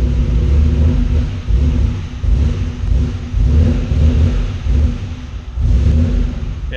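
A Subaru WRX engine, running lean on a Megasquirt setup, revs in repeated surges and dips, a loud close rumble rising and falling with each blip of the throttle and no talking.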